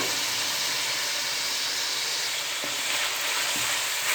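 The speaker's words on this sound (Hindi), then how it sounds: "पाउडर मसाले को 2 से 3 मिनट तक इसकी भुनाई करें।" Powdered spices and softened tomatoes fry in a pan for an aloo moongre dish of potato and radish pods, giving a steady close sizzle with a couple of soft stirring scrapes and no talking.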